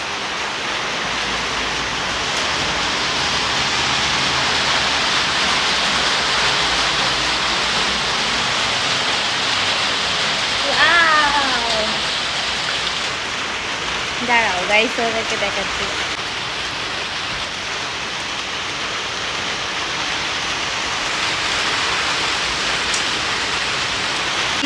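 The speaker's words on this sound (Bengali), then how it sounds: "বৃষ্টি হচ্ছে, দেখো শুধু" Rain pours in a dense, steady hiss on a rainy day, constant and fairly loud throughout, while a person speaks briefly over it and a couple of faint bird chirps break through midway.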